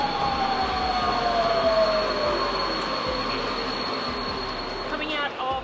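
Underground train in Budapest rumbling steadily along the tracks, a loud continuous roar with a faint rising whine and a high squeal near the end, filling the whole stretch.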